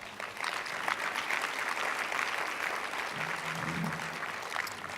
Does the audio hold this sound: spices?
no